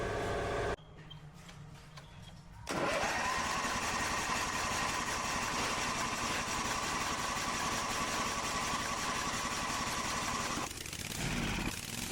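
A small engine fitted into an old sprayer unit starts up and runs at a steady, loud idle, holding an even drone for about eight seconds before dropping off briefly near the end.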